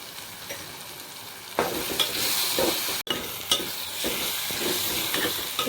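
Sliced onions sizzling in hot oil as a spoon stirs them with turmeric for an onion egg curry, giving a steady close frying hiss broken by scraping stirs against the pan, with no talking.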